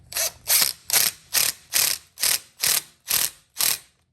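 Nine loud, evenly spaced ratchet strokes, each a sharp burst of clicking, as a screw is worked loose on a 1996 Honda TRX90 ATV, close up with no talk.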